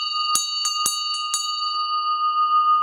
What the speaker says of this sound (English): It's the bell, the school bell.